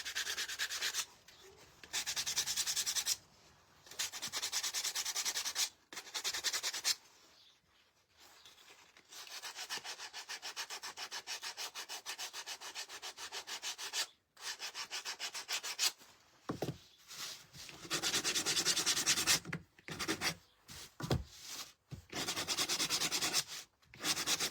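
Sandpaper rubbing the edges of small wooden ladybug wings for a door hanger, in close, scratchy strokes of varying length broken by brief pauses.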